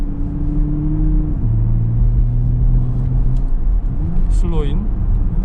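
A Porsche Panamera 4 Sport Turismo pulls away under throttle with a deep engine hum that drops in pitch at a gear change, then climbs and steadies, heard from inside the car as a voice speaks briefly.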